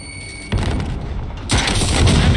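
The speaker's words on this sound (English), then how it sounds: "Throwing frag grenade." Frag grenade going off in Call of Duty Cold War Warzone: a loud booming blast, then a second heavy burst with a rumbling tail, with no talking.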